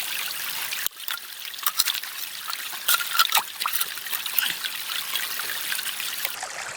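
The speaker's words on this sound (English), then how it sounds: "I'm making sure to wash all the clay off the stone" Water trickling and splashing as clay is washed off a stone into a gold pan outdoors, a steady close dribble with irregular splashes throughout.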